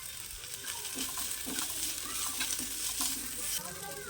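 Chopped onion and green chilli fry in a pan with a constant crackling sizzle, punctuated by repeated soft scrapes and taps of stirring. Close and moderately loud, with no talking.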